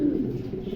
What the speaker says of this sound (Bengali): অনেক বিগ সাইজের কবুতর, খুবই কোয়ালিটিফুল।